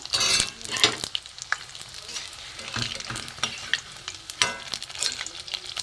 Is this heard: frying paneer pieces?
yes